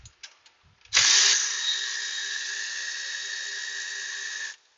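A Milwaukee cordless power tool with a weak battery spins up after a few small clicks and runs with a steady whirring whine for several seconds, then stops, in an auto repair setting.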